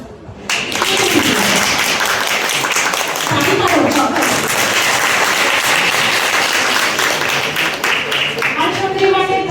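An audience applauds a student with loud, sustained clapping from many hands that fills the room for several seconds, and a voice is heard over it.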